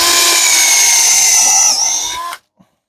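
A power drill drives a 2.5 inch drywall screw, giving a loud, steady high whine for about two seconds. The pitch sags slightly as the screw seats, then the motor cuts off abruptly, leaving silence.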